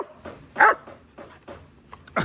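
A puppy barks several times in quick, sharp yips and woofs close to the listener, with short pauses between them and one louder bark near the start.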